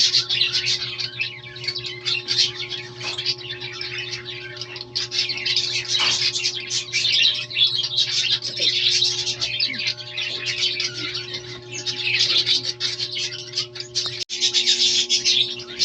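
Pet birds in an aviary chirp and tweet continuously nearby while eating bird seed, over a steady low hum, with a few squawks mixed in.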